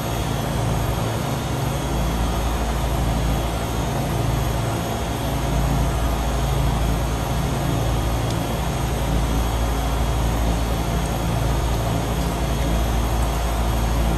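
Steady, loud drone of a small airplane engine in cruise flight at around 19,500 feet, a continuous broadband roar with constant hum and no breaks or voices.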